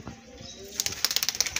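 Pigeons take off in a Pakistani village pigeon-flying contest, with a quick series of sharp, close wing flaps in a steady rhythm rising out of quiet outdoor background.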